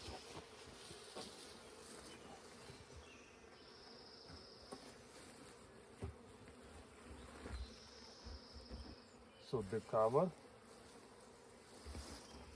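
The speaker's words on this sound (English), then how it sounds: "And now the bees can go inside." Honeybees from a Russian queen colony hum steadily around a log hive as they move inside, a continuous low buzz with a brief louder rustle and a few soft spoken words over it.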